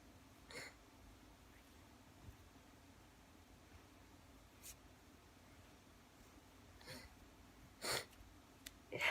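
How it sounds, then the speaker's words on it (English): Several short, soft sniffles scattered through a quiet stretch, with one sharper nasal sniff near the end; no talking. "I'm sure y'all can hear me sniffling."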